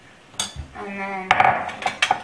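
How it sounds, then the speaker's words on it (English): A utensil clinks and scrapes against a bowl while blondie brownie batter of packed brown sugar is stirred, a few close metallic taps and a short scraping run. "stir it until it's smooth"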